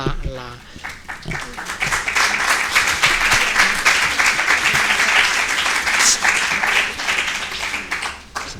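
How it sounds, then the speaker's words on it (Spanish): Sustained applause from a crowd, dense and steady clapping for several seconds, with a few voices mixed in before it tapers slightly at the end. "Si queréis, dejamos los aplausos para Patricia para el final"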